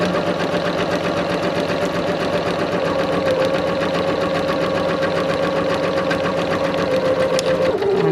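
A sewing machine stitches a seam with a steady, loud mechanical whir that holds throughout, with a brief shift near the end as the stitching changes for backstitching.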